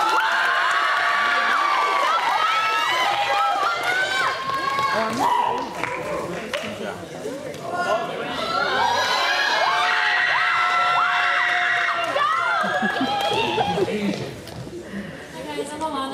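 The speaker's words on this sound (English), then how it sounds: "Give a round of applause" High school talk-show audience cheering and clapping as two students come on stage, loud shrieks, whoops and excited shouting over applause, swelling in waves and easing near the end.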